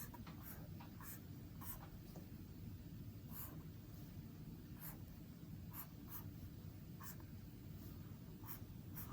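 Pen or marker drawing a diagram of cube slices during a maths lesson on cube roots and real numbers, with repeated short scratchy strokes over a low steady hum and no talking.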